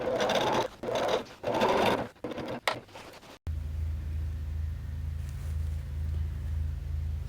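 A sewing machine stitches slowly around appliqué petals on a batik boho throw, a steady low mechanical hum running alone after a stretch of louder bursts of other sound.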